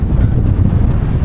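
Steady, heavy wind buffeting the microphone at Marken, a dense low roar with no pauses, loud and close throughout.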